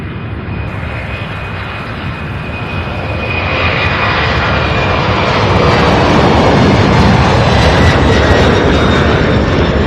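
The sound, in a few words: MD-11 jet airliner engines at takeoff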